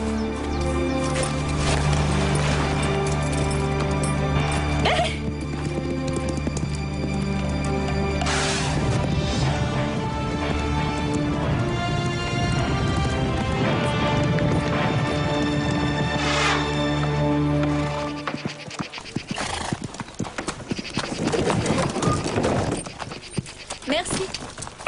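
A ridden horse clip-clops steadily on a road to Royston in a Robin Hood adventure scene, the hoofbeats running throughout under loud music.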